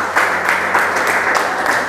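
A church congregation at a revival service in Sumpyuh, Banyumas, claps and cheers. The applause is dense and continuous, a steady roar of many hands and voices close by that lasts throughout.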